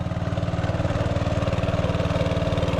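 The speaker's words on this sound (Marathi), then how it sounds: "बघा आपला पंप आहे लागलेला आणि इकडचं सर्व पाणी उसपत आहे" A small water pump engine runs steadily nearby, draining a pit, its rapid, even chugging putting out a constant low drone.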